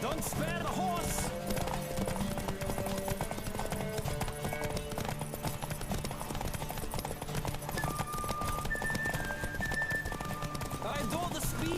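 Hooves pound in a fast, continuous gallop as a horse races in The Witcher 3, mixed with game music and a brief whinny, while characters talk over the ride.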